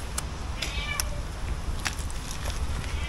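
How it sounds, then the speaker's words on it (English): A cat meows several times in short, fairly faint calls over a steady background hiss and low rumble, inside an abandoned conservatory base. "it sounds like a cat now"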